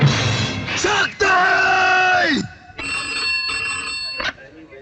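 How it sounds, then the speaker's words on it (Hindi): A loud, harsh shouting voice comes first, then a telephone rings with a steady electronic tone that breaks off briefly and resumes, close and prominent indoors. "शक्ति साहब आपका फोन है।"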